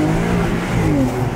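A Porsche 992 with a stock exhaust revs close by, a steady loud engine drone with harmonics rising and falling as it is blipped, no talk over it.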